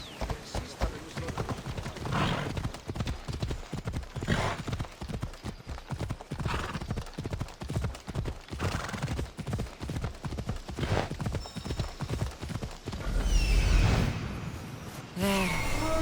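Galloping horse in the video game Assassin's Creed Odyssey, rapid rhythmic hoofbeats pounding continuously up close, with breathy snorts, a whinny and a whooshing swell near the end.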